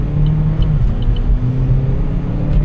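Steady low engine rumble of a Toyota Avalon driving, with the pitch shifting as it accelerates through gears; heard from inside the vehicle.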